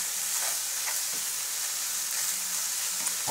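Minced meat bolognese sauce cooking in a pan, giving a loud, constant sizzling hiss with occasional soft scraping from stirring, close up and without talk.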